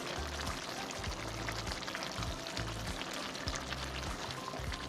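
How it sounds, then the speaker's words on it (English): Chiles being added to a simmering poblano stew, a dense continuous bubbling and sizzling wash with liquid splashing, close and loud with no speech. "After 15 minutes, you want to add your chiles."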